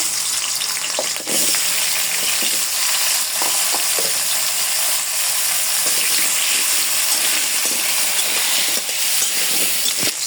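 A few potatoes frying in a little oil in a pan in a home kitchen, a continuous close, loud sizzle with crackling pops and occasional stirring scrapes.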